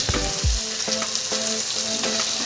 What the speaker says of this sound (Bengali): এবার আলুগুলো একটু নেড়ে নেব।